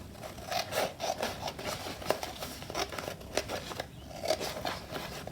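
Paper scraps being trimmed with scissors while assembling an envelope journal, a run of close crisp snips and crinkles at an uneven rhythm, with no talking.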